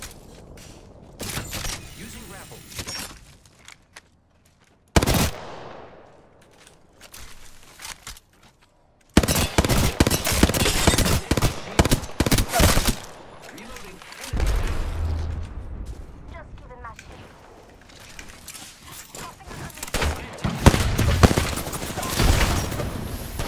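Weapon fire in an Apex Legends match, bursts of rapid shots in clusters separated by quieter gaps, loud and close, with a player talking between volleys.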